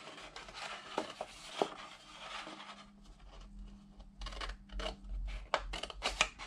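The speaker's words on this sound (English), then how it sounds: "I'm just cutting up to that first score line" Scissors snip through paper up to a score line while building gable-style valentine boxes, giving short, crisp cuts in an uneven rhythm, several close bursts, each on its own with no voices.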